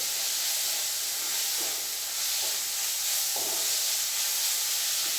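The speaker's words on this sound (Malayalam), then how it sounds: "ഈ ഉള്ളി, വെളുത്തുള്ളി, പച്ചമുളകും എണ്ണയിൽ കിടന്ന് നന്നായിട്ടൊന്ന് അതിൻ്റെ ഒരു പച്ചച്ചുവ മാറിയതിന് ശേഷം" Onion, garlic and green chili frying in oil for a fish curry: a steady, close hiss and sizzle running throughout, with a few faint clicks of a utensil against the pan.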